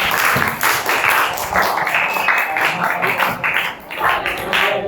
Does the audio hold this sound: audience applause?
yes